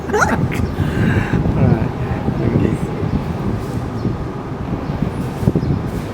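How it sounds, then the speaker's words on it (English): Strong wind blowing outdoors, a loud continuous rush and microphone buffeting that stays heavy throughout, with people talking briefly near the start. "this wind is quite strong"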